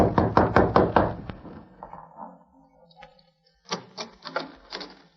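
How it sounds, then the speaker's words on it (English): Five quick, solid knocks on a wooden door ring out close and loud, followed by faint shuffling and a later cluster of softer taps, set in a 1950s Lone Ranger radio drama. "He knocked on the door."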